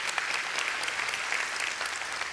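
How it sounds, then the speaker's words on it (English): A church congregation breaks into steady, dense applause, many hands clapping together in a continuous even wash that holds for a couple of seconds with no voices. "we can clap about that"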